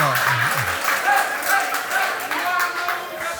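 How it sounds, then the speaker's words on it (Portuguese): Applause and clapping from a school audience gathered for a talk, a dense steady patter of many hands sustained throughout, with a low voice and some crowd noise underneath. "Vamos lá, palmas aí também."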